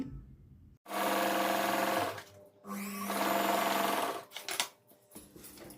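Sewing machine stitching a waistband onto blouse lining, two steady whirring runs of rapid stitching separated by short pauses, then a few brief bursts and clicks, fairly close.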